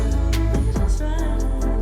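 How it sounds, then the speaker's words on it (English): Short burst of chill hip hop, with a deep booming bass line, soft drum hits and mellow melodic tones, loud and close. "To a chill hip hop sound like this."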